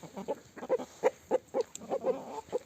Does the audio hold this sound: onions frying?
no